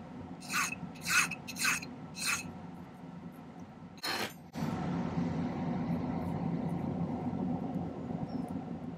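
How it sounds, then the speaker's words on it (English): Metal hand file doing cleanup filing on a silver stone setting for a faceted teardrop stone: four short rasping strokes, a fifth after a pause, then a dull steady hum, close and faint with no talk. "We can just do a little cleanup filing."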